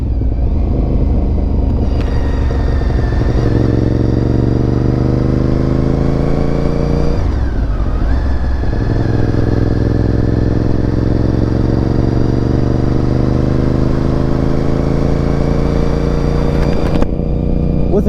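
Honda RC51 sport motorcycle with an aftermarket exhaust and gear-driven cams, ridden hard: a loud, continuous V-twin roar rising through the revs, with a brief dip as it shifts before climbing again.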